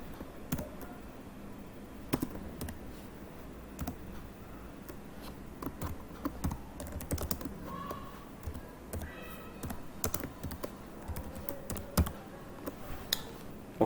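Code being typed on a computer keyboard in a quiet room on Windows, quick irregular key clicks and taps spread through the clip, close but fairly soft, no voices.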